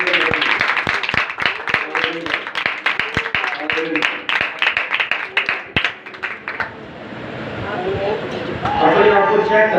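A church congregation claps in a fast, sharp, rhythmic beat during worship, the loud claps close and regular before giving way to voices and singing in the second half.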